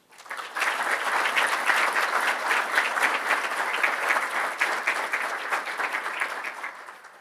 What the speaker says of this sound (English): would everyone please join me in a round of applause to thank these people for their efforts to lead our schools.